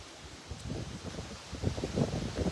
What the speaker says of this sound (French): J'espère qu'on n'entend pas trop le vent.